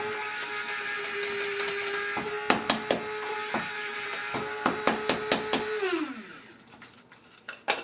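Caffeine pills ground to powder in a small electric grinder, a steady motor whine running for about six seconds before winding down, with sharp crunching knocks of the pills scattered throughout.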